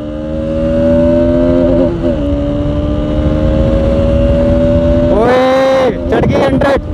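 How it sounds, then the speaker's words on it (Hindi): R15 and RS motorcycles racing along an empty road, engines droning loud and steady with rising pitch, then sharp revving and quick gear shifts near the end, with wind buffeting throughout. "यहाँ से लगने वाली है R15 और RS की रेस, रोड खाली है"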